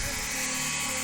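A blow dryer runs steadily throughout at close range, a continuous broadband whir with a faint motor hum underneath.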